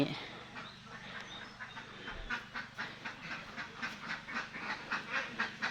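A flock of ducks quacks steadily in a quick, pulsing rhythm, moderately close, with a faint background hum.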